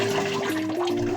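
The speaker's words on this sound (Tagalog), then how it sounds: "Lagyan mo na ng water." Water pours steadily into a cooking pot for rice, a close, continuous splashing and gurgling rush with a faint tonal ring that shifts in pitch as it fills.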